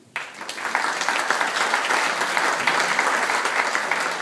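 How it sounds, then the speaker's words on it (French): An audience at a press conference presenting the Francofolies 2013 festival app breaks into applause that swells quickly and holds loud and dense until the end. "Patrick Lienne, on peut aussi applaudir."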